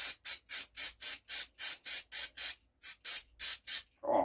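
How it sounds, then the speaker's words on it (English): Brake cleaner sprays onto a truck fuel tank tap in a rapid series of about a dozen short, sharp hissing bursts, close and evenly paced, ending with a brief clatter. "Oh, brake cleaner smells so nice."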